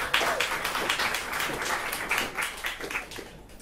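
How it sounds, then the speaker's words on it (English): An audience at a limerick competition final claps and cheers for a contestant, producing dense, continuous applause from a crowd that starts strong and fades slightly toward the end, with no one speaking over it. "could we please give a big cheer for Kathleen Farley"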